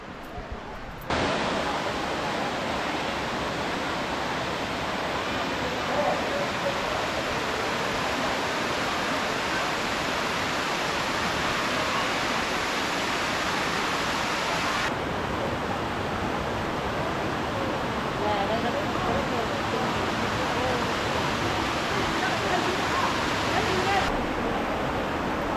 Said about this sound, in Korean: 뭐 물소리는 시원합니다.